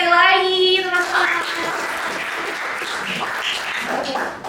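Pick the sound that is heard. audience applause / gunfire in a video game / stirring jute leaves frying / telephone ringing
audience applause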